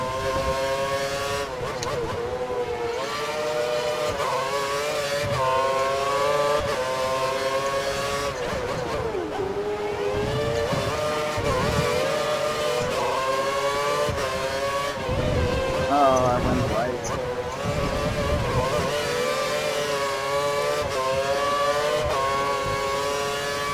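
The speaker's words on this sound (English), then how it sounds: "it keeps dropping the engine sounds" Race car engines from the F1 2013 video game at the Hungarian Grand Prix drone and rev continuously with steady pitch changes, the engine tone briefly thinning or cutting out a few times.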